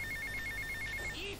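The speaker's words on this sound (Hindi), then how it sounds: "ये किसका फोन आ गया, रुकिए एक मिनट" A telephone rings in GTA Vice City with a rapid, trilling electronic ring that repeats steadily for over a second. It sounds fairly close and plays alone over a low background hum.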